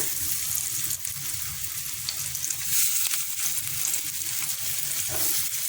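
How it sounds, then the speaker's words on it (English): Fish fingers fry in oil in a pan over medium heat, giving a steady, fairly loud hiss and crackle that holds evenly throughout with no talking. "I am frying with medium heat. And our test fish is starting to fry really well."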